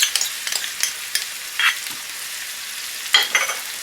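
Onion and ginger-garlic paste frying over a high flame with intermittent stirring and scraping, bursts of sizzle rising and falling against a quieter background; no talking.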